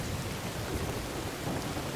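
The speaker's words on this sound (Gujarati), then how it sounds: "ચોટીલામાં ધોધમાર વરસાદ પડતા રૂડેશ્વર તળાવમાં ભારે વરસાદને પગલે એક વ્યક્તિ ફસાઈ ગયો હતો" Torrential monsoon downpour over Chotila, Surendranagar, with heavy rain roaring steadily and evenly throughout, a dense wash of falling water and low rumble, loud and continuous with no voices.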